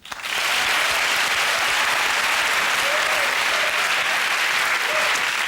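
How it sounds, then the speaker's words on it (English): Studio audience applause on a comedy panel show, a dense, steady wash of clapping that swells in quickly and holds loud and even throughout, with a few faint voices calling out beneath it. "Please join me in a round of applause for our people and their things"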